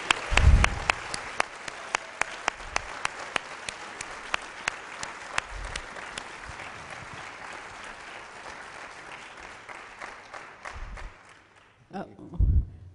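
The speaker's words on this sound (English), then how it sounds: "I just want to say I think we all need to give a huge round of" Applause from an audience at a literature festival, a dense sustained clapping that fills the room for about eleven seconds with a few sharper individual claps standing out, then fades, with a brief voice near the end.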